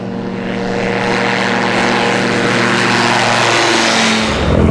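A microlight aircraft's propeller engine drones loudly and steadily in flight, with wind rushing over it, then the pitch dips slightly near the end.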